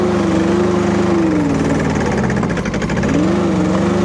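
A diesel RS04 mini skid steer engine runs loud and close, its steady drone dipping in pitch as it bogs under the load of a scoop, then recovering.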